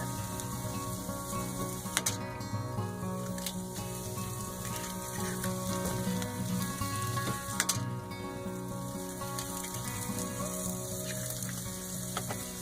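Vegetables and sausage sizzle steadily in a frying pan, a dense continuous crackle with a few sharper pops, moderately loud and close, with no voices.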